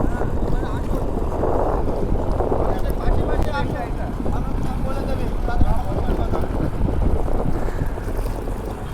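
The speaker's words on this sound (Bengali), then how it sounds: "এই যে আমাদের নৌকা চলে এসছে," A boat approaches along a river in a steady wash of engine and water noise, heavily buffeted by wind across the microphone for the whole stretch.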